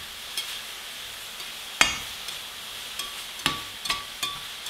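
Steak fries in a pan on a stove with the lid on, giving a soft, steady sizzle. A few sharp metallic clinks and taps cut through it.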